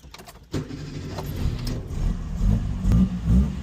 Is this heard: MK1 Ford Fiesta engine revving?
yes